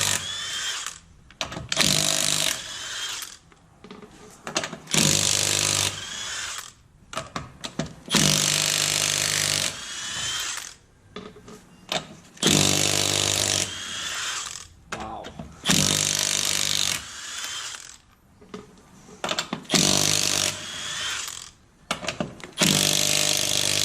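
Pneumatic impact gun running in reverse during brake repair on a Chevy Express 3500 van, firing in repeated loud, rattling bursts of a few seconds each with short pauses between, close up.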